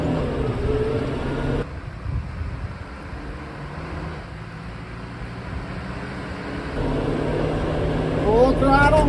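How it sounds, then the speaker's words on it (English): A New Holland tractor engine roars at full throttle in high gear, a steady loud drone that dips briefly and then swells again toward the end, with a voice talking over it. "Full throttle, high gear."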